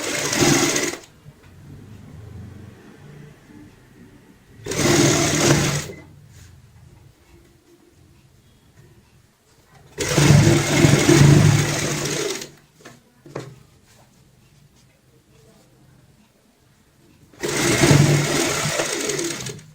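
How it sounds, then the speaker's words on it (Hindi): A sewing machine runs in four separate bursts of rapid mechanical stitching, attaching a zipper to a heart-shaped cushion cover with a single-foot seam, with quiet pauses and light handling noises between runs. "यहाँ पे एक पैर की सिलाई से जिप को अटैच करेंगे"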